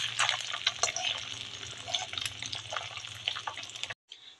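Black cumin seeds sizzle in hot oil for a Bengali tempering, a steady close crackle and hiss with sharp spitting pops and a low hum beneath, then a brief cut.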